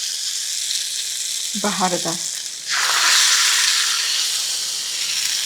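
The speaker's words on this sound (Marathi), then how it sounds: "आता ही तयार फोडणी घालूयात चटणीमध्ये." Hot tempering oil with mustard seeds, cumin, asafoetida, curry leaves and dried red chilli is poured into chutney. A brief spoken word comes first, then a loud, steady sizzle bursts in and holds close up.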